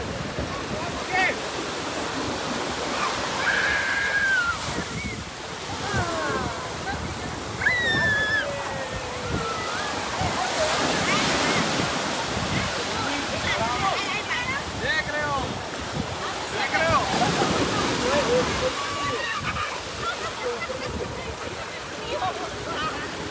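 Sea waves surge and wash onto the beach at Puri, Odisha, a steady broadband roar with rushing surf throughout, mixed with wind buffeting and faint distant voices of beachgoers.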